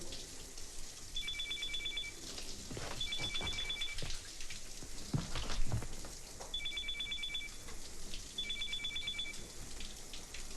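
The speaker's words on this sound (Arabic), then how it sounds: "مالك موبايلك بيرن؟" A mobile phone rings in an Egyptian film scene, a faint electronic ring sounding in short repeated bursts, with shower water and household noise beneath.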